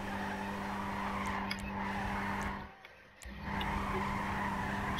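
Tires skid in a long continuous squeal as a van is drifted, loud and close with engine noise beneath, briefly dropping out near the middle before resuming.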